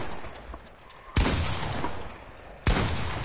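Two sharp, loud gunshots about a second and a half apart in the video game Fortnite, over a low background of game noise.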